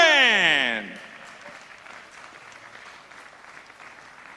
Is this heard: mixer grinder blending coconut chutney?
no